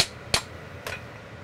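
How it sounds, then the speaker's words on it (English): A rawhide mallet taps a valve brass mouthpiece twice, two sharp isolated knocks about half a second apart in a quiet repair shop. "you can tap on it with a rawhide"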